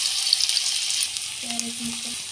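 Potato pieces sizzling in hot oil in a pan for Telangana-style khichdi, with a steady close frying crackle and a faint tonal hum partway through, no talking.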